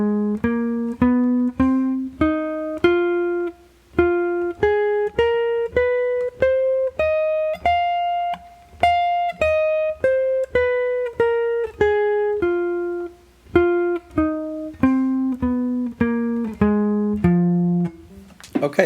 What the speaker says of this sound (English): The A section is going to be based on the F blues scale